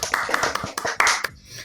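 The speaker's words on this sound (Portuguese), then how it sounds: "uma salva de palmas para o Lucas." A short, close burst of hand clapping, a handful of uneven claps in quick succession before trailing off.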